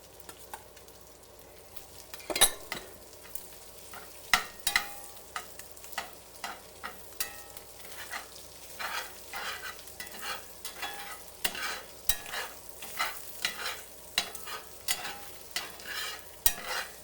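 Sausage and flour stirred together in a cast iron skillet, a steady scraping stir over a soft sizzle, with repeated sharp scrapes and clacks of the utensil against the pan, close and alone without talk.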